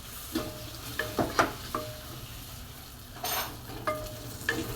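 Chopped tomato and turmeric powder fry in a pan for palak paneer, with a soft steady sizzle broken by several sharp spoon scrapes and clinks as the mixture is stirred, close and fairly quiet.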